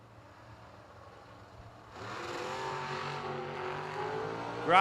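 A 1992 Pontiac Firebird drag race car launches at a drag strip: a low idle, then a sudden jump into a rising, harmonic engine roar that grows louder toward the end, heard from a distance.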